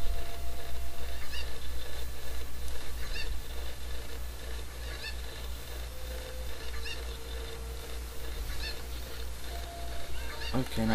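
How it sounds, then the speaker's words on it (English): A Cucco chicken from The Legend of Zelda: Ocarina of Time gives short repeated clucks over a steady game soundscape, the calls recurring every second or two at moderate volume throughout. "grab that Cuckoo on the way"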